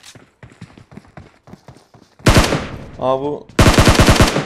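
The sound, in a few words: gunfire in PUBG Mobile video game, players shooting at each other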